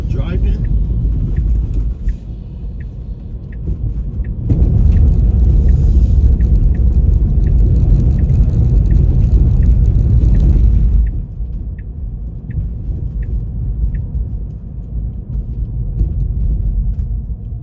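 Car driving through New York City, a low steady engine and road rumble from inside the cabin that swells louder midway and then settles, with faint clicking ticks over it and people talking at times.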